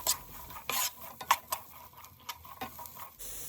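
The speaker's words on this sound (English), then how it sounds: "I'm going to add in my onions and give that a quick stir." Onions being stirred in hot olive oil in a pan, a quick run of spoon scrapes and light metallic clinks over a gentle sizzle, close and fairly quiet.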